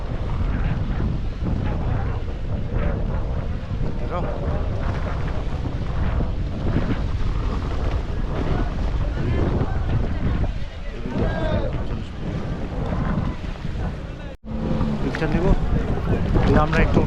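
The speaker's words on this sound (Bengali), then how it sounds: "আমরা একটু উঠলাম একটা নৌকায়" A small hired boat rides on the sea near tankers at Chattogram port, with a steady, loud rush of engine, water and wind buffeting the microphone throughout, and voices talking over it.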